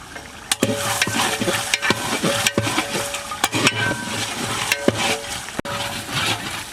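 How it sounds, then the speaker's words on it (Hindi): Beef fries in a large cooking pot with ground garam masala as a spoon stirs and scrapes it, a steady close sizzle broken by repeated sharp metallic clanks against the pot's side. "इस मौके पे आके चम्मच को बराबर हिलाते रहना है ताकि देग हमारी नीचे से लग ना जाए।"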